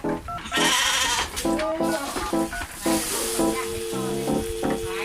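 A goat held for blood drawing bleats in several short, strained cries, close and fairly loud, with scuffling and handling noise between calls.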